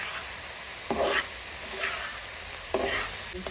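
Papaya pieces for homemade tutti frutti fry in a pan, a steady soft sizzle broken by a couple of louder scraping stirs.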